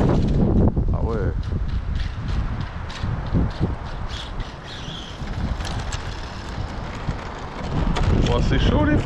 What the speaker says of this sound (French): Le vent il est foufou les gars là.